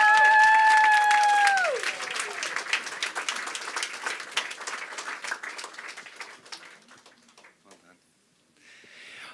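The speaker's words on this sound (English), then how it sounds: "Could we get another round of applause for Kenya?" At a PechaKucha Night in Bermuda, a voice rings out over a loud, sustained tone, then a crowd breaks into applause, dense clapping that gradually thins and fades to silence.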